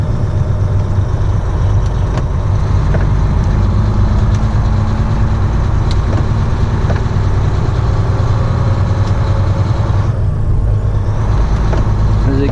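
Heavy truck rumbling as it pulls away from the TA truck stop on a foggy morning, steady low engine drone close by throughout with road and cab noise, no talking.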